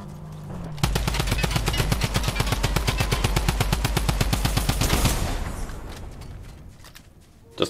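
In a Fortnite Zero Build solo match, a gun fires a long, loud run of evenly spaced shots in a rapid regular rhythm. The shots stop abruptly, followed by a quieter fading tail and one last sharp hit.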